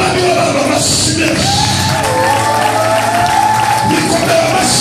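Church congregation applauding and cheering during a prayer service in Rwanda, loud continuous clapping with voices calling out and a sustained vocal tone over the crowd.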